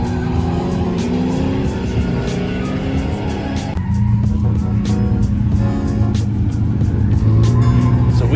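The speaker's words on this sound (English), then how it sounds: "I hear cars drifting around" Cars drifting at a race track car show, with sustained tire squeal and revving engines carrying on continuously in the distance, loud and steady throughout with no talking.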